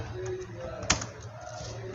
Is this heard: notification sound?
no